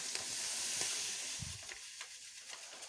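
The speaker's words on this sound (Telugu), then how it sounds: "ఇది గోల్డెన్ బ్రౌన్ కలర్ వచ్చేలాగా వేయించుకుందాం" Bombay rava semolina roasting in ghee in a pan, a faint soft sizzle with a few light scrapes and stirs of the spoon.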